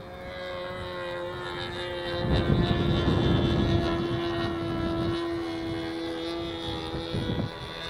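Sig Smith Miniplane model aircraft flying at Hemet Model Masters in California, its small engine droning steadily in windy conditions, swelling louder midway as it passes closer, with wind buffeting in the background.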